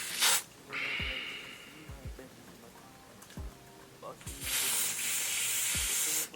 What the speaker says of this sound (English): going to take my Got To Be Glued spray and